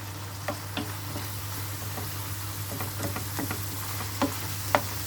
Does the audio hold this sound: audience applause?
no